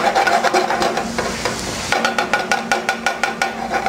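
Garlic, onions and parsley sauté in bacon grease with a bright, close sizzle, and rhythmic spoon scrapes and stirs repeat roughly every third of a second with no talking.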